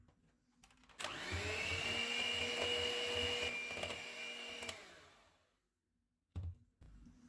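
An electric mixer beats eggs, milk and vanilla essence into chocolate chip cake batter. It makes a steady whine for about four seconds, then winds down into silence, and a couple of short knocks follow.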